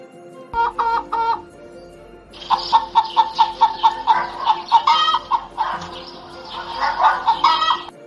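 A hen clucks in rapid bursts, close and loud, with a short run of clucks followed by a longer stretch of excited cackling.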